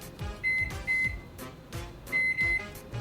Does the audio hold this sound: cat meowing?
no